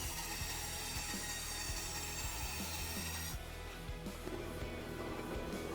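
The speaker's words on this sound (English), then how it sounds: "I start by cutting away the excess wood from each foot, carefully following the contours" Excess wood being cut away by hand from a small carved wooden foot for a scratch-built figure, a steady, close rasping and scraping with repeated soft strokes under a constant background hiss.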